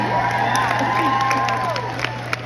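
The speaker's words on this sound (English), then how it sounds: "How about a round of applause for that group too, right?" A crowd cheers and claps together, with whoops and shouts rising over a steady mains hum in a large room.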